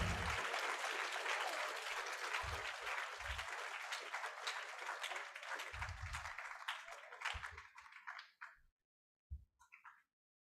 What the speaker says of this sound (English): Can we hear a huge round of applause for all of them?